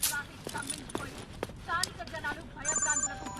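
A telephone bell rings in short electronic bursts near the end, amid clattering, footstep-like knocks and background voices.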